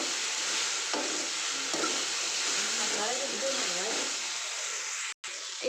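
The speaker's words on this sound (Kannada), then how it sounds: "ಇದನ್ನೆಲ್ಲ ಚೆನ್ನಾಗಿ ಫ್ರೈ ಮಾಡ್ಕೋಬೇಕು" Sliced okra and garlic frying in a hot pan, giving a continuous loud sizzle with occasional stirring scrapes, while someone talks over it throughout.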